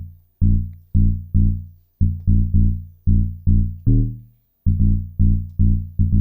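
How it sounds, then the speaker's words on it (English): A powerful log drum with soft, rounded attack hits in a repeated rhythmic pattern, each deep boomy note decaying quickly, close and alone with no talking. "So it's a really powerful log drum,"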